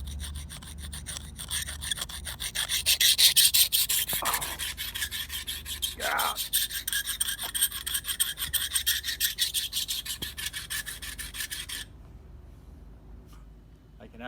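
Buck knife edge rubbed against a hard surface to dull it, a rapid rhythmic rasping scrape repeating close up for about twelve seconds before stopping, with a brief word spoken and a couple of louder scuffs partway through.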